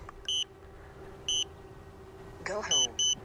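A DJI drone gives repeated high electronic beeps during its return-to-home, short paired tones sounding at intervals over a faint background hum, with a brief burst of other noise near the end.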